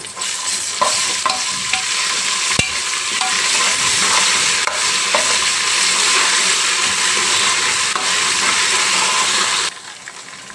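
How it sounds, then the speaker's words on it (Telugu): Ginger garlic paste frying in oil over fried onions, a loud continuous sizzle and crackle filling the whole stretch, with a few sharp stirring clicks and pops before it quietens at the end. "ఇప్పుడు ginger garlic paste one and half నూనె వేసుకున్నా"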